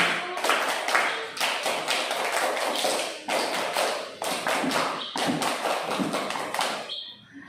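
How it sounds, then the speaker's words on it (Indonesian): Elementary school second graders doing the Indonesian scout clap in a classroom, a loud rhythmic pattern of grouped claps and pats in quick bursts with brief pauses, ending in a final flourish. "Kalau sudah siap, ayo kita tepuk pramuka."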